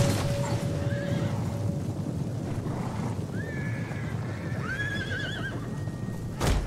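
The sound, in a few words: horses neighing and galloping in a video game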